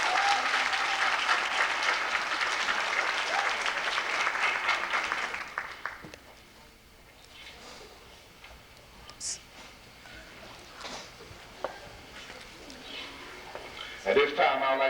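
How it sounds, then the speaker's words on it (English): Hearty applause from a crowd at a high school track team banquet runs loud for several seconds, then fades to scattered claps and quiet room noise with small clatters. "I think they deserve another round of applause."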